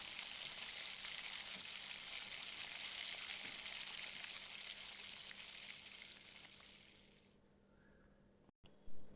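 Chopped ginger, chillies and onions frying in hot oil for an upma tempering give a steady, close hiss of sizzling that thins out toward the end, with no talking.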